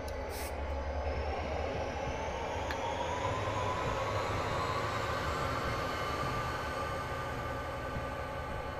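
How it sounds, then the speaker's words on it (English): A train rumbles steadily nearby with a low continuous drone and a faint rising whine, plus a couple of brief metallic clanks near the start, and no talking. "I don't know what this train's doing here"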